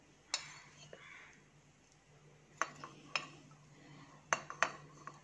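Peppercorns dropped into a mixer grinder jar while preparing coconut paste for pineapple pulissery give a few sharp, scattered clicks and rattles at close range over a quiet room hum.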